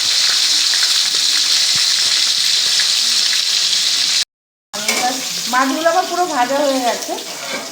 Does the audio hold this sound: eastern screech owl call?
no